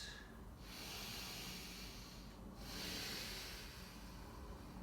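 Slow, deep breaths during a vinyasa yoga hold, broad airy hiss swelling and fading in long cycles, close and steady with no talking.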